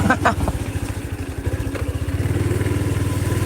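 A motorcycle putters along a wet rice field path behind a school and temple, its engine close and loud with a rapid, steady thumping pulse that holds throughout.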